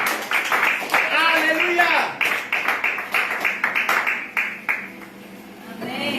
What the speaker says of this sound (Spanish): dale el mayor de los aplausos al Señor en esta mañana